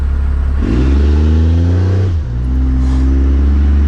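A 12-valve Cummins diesel truck fitted with a #0 fuel plate accelerates hard with the tires peeling out, its engine note loud and close, rising and then dipping before pulling again.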